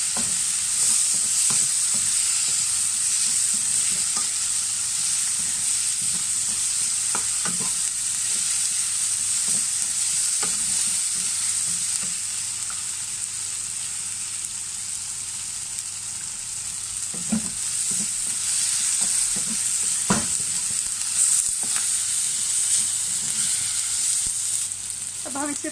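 Green chilies sizzle in a hot pan while being stirred for poha, a steady frying hiss with scattered clinks and scrapes of a spoon against the pan throughout.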